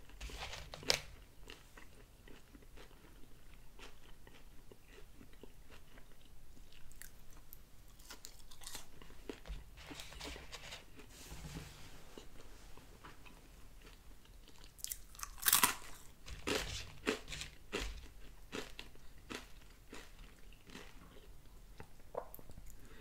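Hand-cut Five Guys style french fries are crunched and chewed up close, giving soft crisp bites and chewing noises that come in bursts, with a louder crunch partway through.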